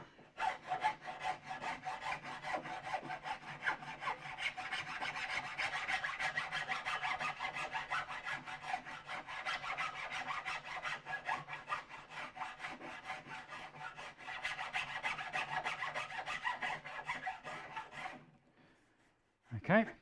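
File rasping a wooden bench leg for a Lutyens bench in steady, rapid back-and-forth strokes, close and continuous for about eighteen seconds before stopping, then one brief scrape.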